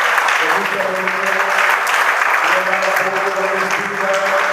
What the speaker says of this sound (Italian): è giusto ricordare un grande applauso a tutte le donne che si danno a fare